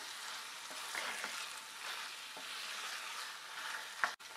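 Chicken with garam masala powder, chopped ginger and green chilli being stirred in a hot pan, making a quiet, continuous frying sizzle with soft scraping strokes and a sharp clink near the end.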